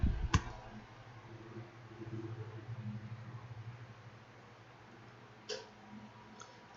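A computer mouse gives two or three sharp, quiet clicks, one near the start and another later, separated by a few seconds of faint room hiss with a soft hum underneath.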